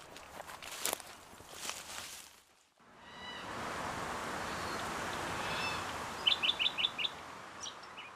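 Red-tailed black cockatoos call from a tree overhead. Footsteps and rustling come first, then a steady hiss, then a quick run of about five sharp calls and a couple more nearby.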